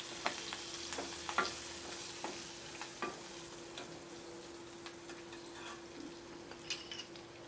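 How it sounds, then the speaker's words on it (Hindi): Chopped chillies fry lightly in a hot oil tempering for sooji dhokla, giving a steady soft sizzle with occasional clicks and stirring taps close by. "मिर्च को चॉप किया है, तो वो भी मैं इसके अंदर ऐड कर रही हूँ। हल्का सा इन्हें फ्राई करके"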